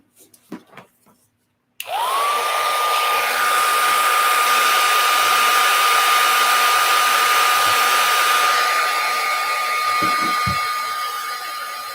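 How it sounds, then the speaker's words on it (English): Handheld craft heat tool blowing hot air while drying gesso on a handmade tag journal, a loud steady whine and rushing air that starts abruptly and runs continuously, close to the microphone, with faint handling taps around it. "I'm taking my heat tool and adding the gesso at the same time."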